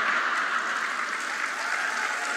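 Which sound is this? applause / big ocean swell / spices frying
applause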